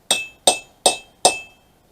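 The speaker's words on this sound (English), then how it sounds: "We're just going to keep hammering around at that hole." Four sharp metallic hammer strikes on hot rebar steel over an anvil horn, punching a hole, ring out at an even pace, each leaving a bright, decaying ring, close and loud with silence between.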